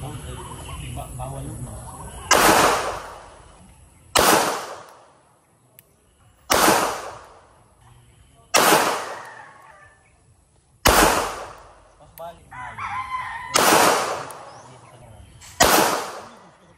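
An FN 509 Tactical pistol fires at a 3-inch target from 7 yards. Seven loud, sharp shots ring out about two seconds apart, and each is followed by a ringing, echoing decay.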